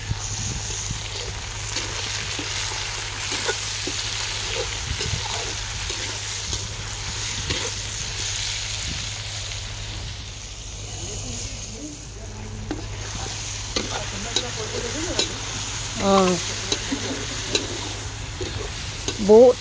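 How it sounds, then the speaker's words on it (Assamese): Potatoes and capsicum frying and being stirred in a pan, a steady sizzle with scraping stir strokes throughout, a few louder clanks near the end. "এতিয়া পেপচিকামো দি দিলোঁ কেইটামান, আলু, পানীলাও, পেপচিকাম ভাজি লৈছোঁ"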